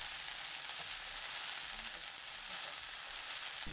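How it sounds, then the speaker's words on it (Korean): Bean sprouts stir-frying over high heat in a pan for a curry stir-fry, a steady broadband sizzle with faint stirring scrapes, close and continuous with no talk. "2분 30초 볶아주세요"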